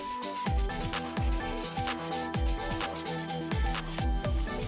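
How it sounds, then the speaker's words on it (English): Steady back-and-forth scrubbing of a wire brush and sandpaper on the metal wheel bearing mounting area of a VW front strut, a quick, even rhythm of short rasping strokes, close and alone. "With a wire brush and sandpaper, we clean the wheel bearing mounting area"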